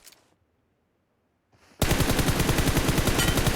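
Gunfire in the video game PUBG Mobile: after a near-silent moment, a loud, rapid automatic burst of shots runs continuously to the end.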